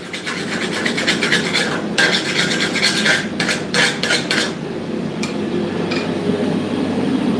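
A blacksmith scrapes the coating off a freshly forged knife blade with a hard tool, making a series of loud, close rasping strokes in quick rhythm that thin out to a couple of lighter scrapes.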